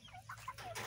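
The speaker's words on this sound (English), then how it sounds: "these are just such pretty chickens." Backyard chickens cluck softly in a short burst of several murmured calls, close by and fairly quiet, with no talking over them.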